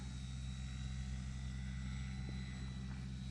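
An OG Tundra bush plane fitted with timber wheels drones steadily in flight, a continuous low engine and propeller roar with a faint high whine riding on top, loud and unbroken throughout.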